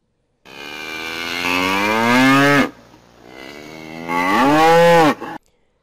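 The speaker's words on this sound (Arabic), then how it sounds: "البقرة نسمي صوتها بالخوار" A cow moos twice, close and loud: first a long, rising-then-falling low call of about two seconds, then after a brief pause a second shorter moo of similar tone, with no other sounds around.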